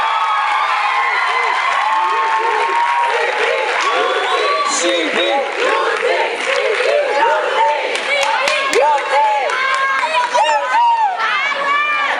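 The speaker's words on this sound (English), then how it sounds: "Can we please give them a round of applause?" An awards ceremony audience applauds and cheers steadily, with bright whoops and shrieks rising above the clapping throughout.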